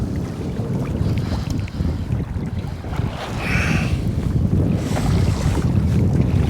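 Waves from the northeast roll and slap against a fishing boat out on Lake Michigan, a steady loud wash of water with heavy wind buffeting the microphone, surging louder in the second half, with no voices.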